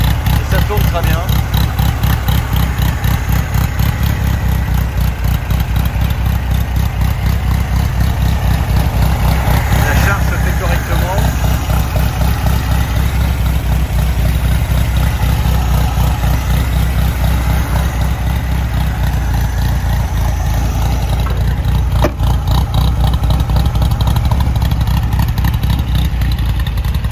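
A 1972 Volkswagen Beetle engine idles close by, a steady, loud, rhythmic air-cooled putter with light clatter that runs throughout.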